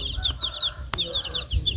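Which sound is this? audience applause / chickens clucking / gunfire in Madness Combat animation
chickens clucking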